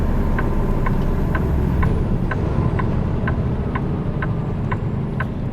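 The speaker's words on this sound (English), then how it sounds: "Pretty much traffic coming northbound at us." Northbound road traffic streams past in a steady loud rumble of engines and tyres near Fogelsville, with an even ticking click repeating about every half second over the noise.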